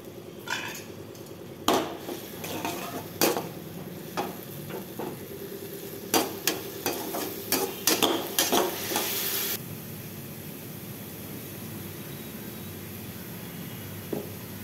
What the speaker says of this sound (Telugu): బాగా వేగిన దాకా మనం ఈ ఆయిల్లోనే రోస్ట్ చేసుకోవాలి.